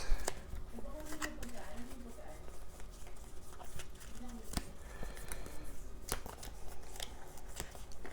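Playing cards are drawn from a deck during a Marvel Legendary deck-building card game, giving soft close riffling and flicking snaps scattered across the clip, with quiet talk in between.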